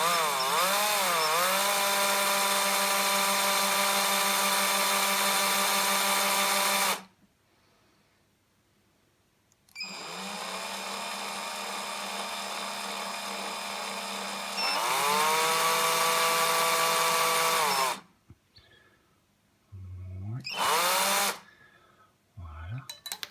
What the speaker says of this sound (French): un coup de perceuse pour réaliser le twisted